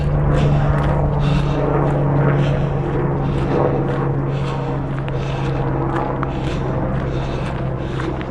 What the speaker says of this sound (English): And there's a helicopter above making noise